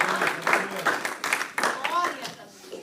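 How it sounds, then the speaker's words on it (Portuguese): A church congregation claps in quick rhythmic bursts during worship, with voices mixed in. "Aplauda ao Senhor Jesus."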